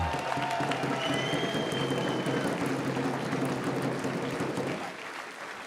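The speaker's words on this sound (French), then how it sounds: "Allez les yeux, on chauffe la salle, on applaudit," Crowd applause fills a boxing hall before a bout, dense and steady with scattered cheers and whistles, holding loud for several seconds before tapering slightly near the end.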